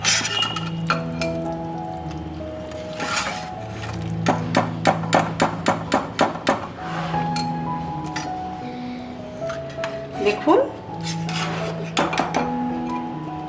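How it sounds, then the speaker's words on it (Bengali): Chicken pieces being lifted out of soup stock in a cooking pot, giving a run of sharp metallic clinks and knocks of a utensil against the pot, some in quick bursts, fairly close and without talk. "চিকেন আমি তুলে নিচ্ছি শুধু স্টকটাকে রাখবো"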